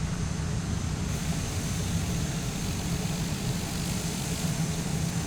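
Airliner taxiing on the ground in Microsoft Flight Simulator at the Grand Canyon, a steady low engine rumble and hum holding constant throughout without talk.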